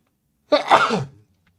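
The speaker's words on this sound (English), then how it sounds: "I normally don't sneeze" One sharp, close sneeze bursts out of silence and lasts about half a second before fading away.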